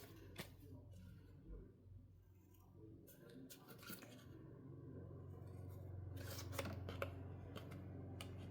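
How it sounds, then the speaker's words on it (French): Scissors snip around the edge of surplus material in a recycling craft project, a run of close, crisp cuts and rasping rubs over a steady low hum, with brief talk in between. "Je retourne et je coupe tout le surplus."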